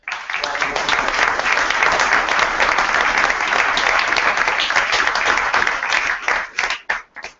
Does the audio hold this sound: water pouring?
no